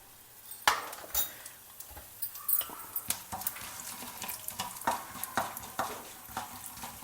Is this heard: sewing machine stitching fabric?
no